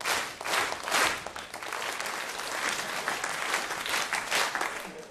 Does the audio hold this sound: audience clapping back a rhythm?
yes